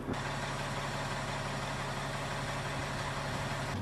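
A fire engine idles steadily at a hydrant as hose is laid out, a continuous close, even mechanical rumble with no talk over it.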